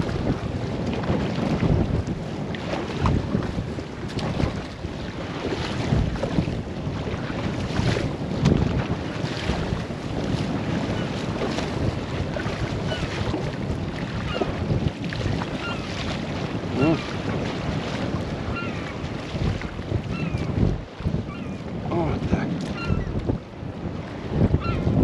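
Wind blows steadily over the Ambler River during a raft float, a broad rushing roar with gusts and microphone buffeting, mixed with water noise and lasting the whole stretch.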